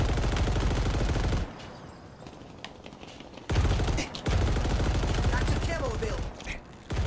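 Mounted turret gunfire in Halo Infinite during Big Team play, loud sustained bursts broken by a couple of short pauses, with talk over the shooting.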